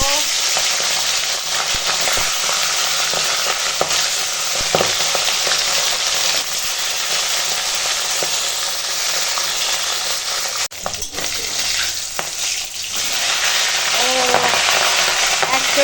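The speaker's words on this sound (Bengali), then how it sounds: "এখন কড়াই দিয়েছি সরিষার তেল আর তেল হয়ে গেছে গরম তো এখন মাছ ভেজে নেব" Fish sizzling and spitting in hot mustard oil in a wok, a steady loud frying hiss with crackles throughout, briefly dipping near the middle before resuming.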